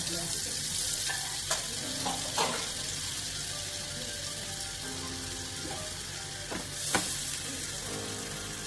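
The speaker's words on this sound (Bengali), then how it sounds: "আমরা তেলের মধ্যে একটু বাটার দিয়ে দিচ্ছি" Butter melting into hot oil in a pan while cooking a spinach (palang shak) dish gives a constant loud sizzle, broken by a few sharp clinks and scrapes of stirring, with no talking.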